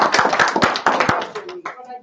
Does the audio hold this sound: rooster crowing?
no